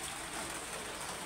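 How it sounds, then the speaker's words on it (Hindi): Steady, dense hiss of heavy rain falling in Karachi, an even wash of noise with no pauses and no voices. "फिर से बारिश हो रही है"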